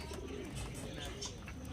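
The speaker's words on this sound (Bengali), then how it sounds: "এখানে দেখতে পাচ্ছেন বেশ কিছু কাগজি পায়রা আছে" Pigeons, including paper-white Kagji pigeons, coo softly amid a busy bird market hubbub, with voices chattering in the background throughout.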